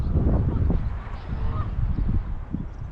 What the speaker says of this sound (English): Some Canadian geese out there.